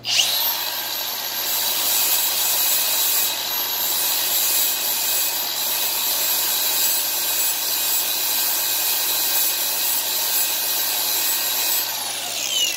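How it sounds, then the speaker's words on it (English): A flap disc on a grinder removes scale from a steel chisel, a continuous high whine with a steady abrasive hiss running the full length, close and loud, with no talking. "I'm just going to hit this again real quickly with just my flap disc here"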